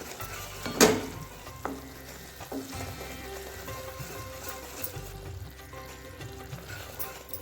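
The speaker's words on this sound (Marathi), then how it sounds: "गूळ आपला छान वितळला आहे बघा पूर्ण पातळ झाला आहे गूळ आणि छान असा फेस पण आला आहे अजून एक दोन मिनटांसाठी आपण याला शिजवून घ्यायचं" Melted jaggery bubbling and cooking in a pan for sesame-jaggery sweets, a soft continuous sizzle and froth with a few stirring scrapes and one sharper clatter near the start, heard up close with no talking.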